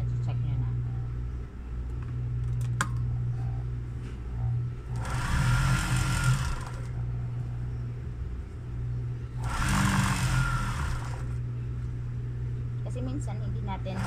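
Two loud whirring bursts of a sewing machine stitching a blanket, each lasting about two seconds, over a steady motor hum, with someone talking between them.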